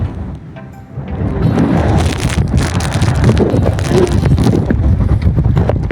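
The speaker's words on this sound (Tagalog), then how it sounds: "Lakas mo hangin" Strong mountain wind on Mt. Sembrano roars and buffets steadily against the microphone, a loud, broadband rush that swells after the first second and stays constant.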